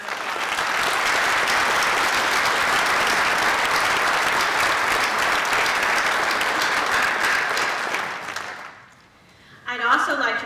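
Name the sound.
audience applause at a college scholarship ceremony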